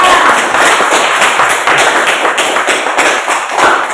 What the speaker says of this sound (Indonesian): Mari kita beri aplaus pada teman-teman.